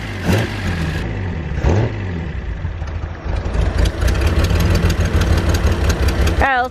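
A Datsun 240Z engine idles close up with a loud, rough, steady rumble, broken by a couple of brief bursts and a rising whine at the very end.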